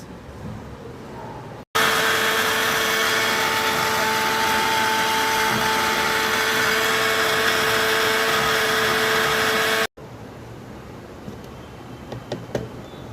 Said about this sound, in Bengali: সরষাটা এখন আমি ব্লেন্ড করে নিব।